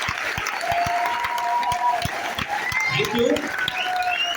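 Loud applause from an audience welcoming new attendees at a direct-selling meeting, steady dense clapping throughout with a voice speaking briefly over it.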